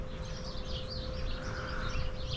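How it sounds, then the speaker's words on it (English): Birds sing outdoors on a morning in a remote countryside spot, a lively cluster of chirps and trills, moderately close, over a low steady hum. "Birds are singing."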